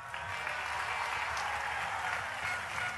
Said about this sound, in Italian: fatevelo voi l'applauso